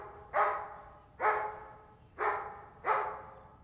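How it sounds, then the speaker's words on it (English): A dog in the Project Zomboid video game barks four times at an even, steady rhythm, each bark a loud, sharp burst with a short tail, heard clearly with no talking. "Doggy."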